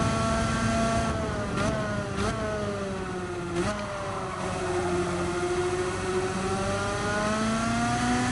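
Car engine driving laps in Gran Turismo 7, a loud, sustained engine note sweeping up and down with gear changes and brief dips, close and continuous with no talk.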